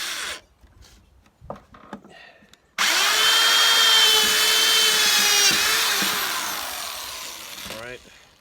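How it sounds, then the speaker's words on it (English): A power drill bores a pre-drilled hole into a plastic battery box on a riding mower. It starts abruptly after a few seconds of handling noises and runs loud and steady for about five seconds, its pitch sagging slightly as it cuts. "It won't hurt to put a little bit of a pre-drill in there."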